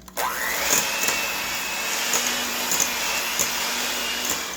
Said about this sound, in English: we're going to mix the wet together